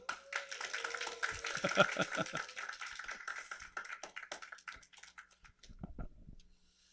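Small seminar audience clapping in welcome as a visiting pastor comes forward, a thin, quiet patter of a few hands that thins out and trails off into scattered claps.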